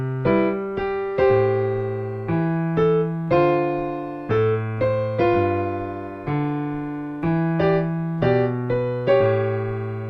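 Jazz piano chords played with both hands together in a minor 7 to dominant 7 progression, a steady rhythm of sustained chords that each ring out and fade, clear and alone.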